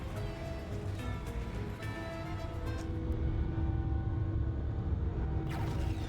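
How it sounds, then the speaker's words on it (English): Deep, steady rumble from a drill tower in the video game Dredge, a continuous low drone with faint metallic tonal layers and clanks, growing slightly louder partway through, with no talk. "the sound from the tower changes into a deep rumble"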